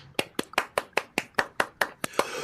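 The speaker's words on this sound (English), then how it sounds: "The applause is a bit more subdued than I'm used to." Roughly a dozen single claps ring out at an even pace, sharp and close, sounding like a small, subdued audience response rather than full applause.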